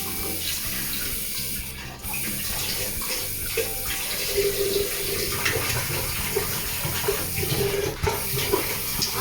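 Water running from a tap to rinse an Amway water filter housing, a steady, close, continuous splashing rush with no pauses.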